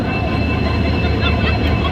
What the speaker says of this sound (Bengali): এই যে আমাদের ট্রেন এসে গেছে